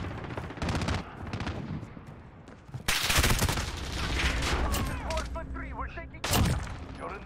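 Rapid bursts of gunfire with sharp explosive blasts from a PS4 shooter game, loud and dense throughout, with heavier booms near the middle and end and a voice talking over the action.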